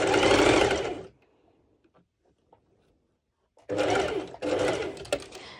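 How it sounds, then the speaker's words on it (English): Sewing machine running a straight stitch on a one-shoulder top, two loud buzzing bursts of steady motor whir separated by a quiet pause with faint handling clicks. "I just show you how I'm doing my straight stitch"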